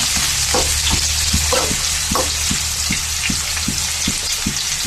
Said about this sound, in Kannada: ಏನು ಸೌಂಡು ಈರುಳ್ಳಿದು